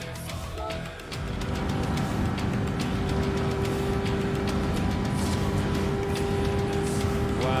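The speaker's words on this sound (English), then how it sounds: "I'll turn down the car engine a little bit for you guys" Car engine sound in a racing video game, a steady loud drone with a constant hum that runs through the whole stretch after a short dip at the start.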